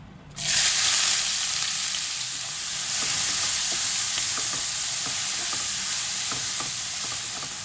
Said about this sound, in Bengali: পেঁয়াজটা হালকা লাল লাল করে ভাজা হয়ে গেছে